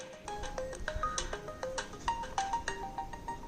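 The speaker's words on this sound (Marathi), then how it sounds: "किती वेळचा फोन वाजतोय?" A phone ringtone plays a bright, repeating electronic melody of short stepped notes, steady and fairly close for the whole stretch with no voices over it.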